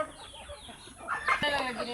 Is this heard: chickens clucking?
yes